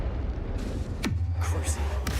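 A Confringo blasting spell from Hogwarts Legacy bursts out at about one second as a sharp crack with a falling whoosh, over a low steady game drone, with a fainter burst near the end.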